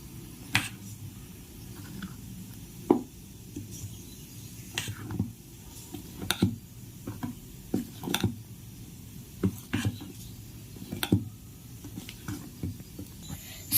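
Dosa batter with onions being mixed by hand in a bowl, giving soft, irregular wet clicks and taps close by over a quiet background, with no talking.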